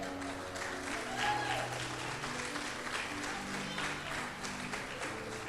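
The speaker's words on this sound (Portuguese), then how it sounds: "Se quiser aplaudir, não fica com vergonha não." An audience at a stand-up comedy show applauds. A steady wash of clapping fills the whole stretch, with voices and some tonal sound running beneath it.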